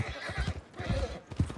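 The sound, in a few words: horse neighing at stables in video game Red Dead Redemption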